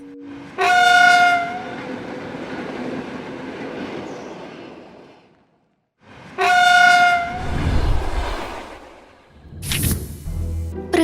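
A train pulls into a station, sounding its horn in two loud blasts separated by a lull, with rumbling carriages and rattling wheels beneath and a sharp hiss of brakes near the end.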